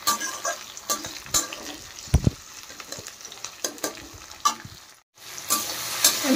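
Tomatoes and spices fry in a pan with a steady sizzle, broken by sharp stirring scrapes and clatters of a utensil against the pan, fairly close and without talk.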